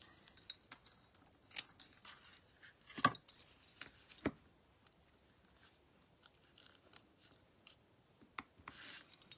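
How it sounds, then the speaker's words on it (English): Ribbon scissors cut through ribbon in a few quiet, sharp snips spread across the stretch, with faint rustling of ribbon between the cuts and no talk. "Where's my ribbon scissors?"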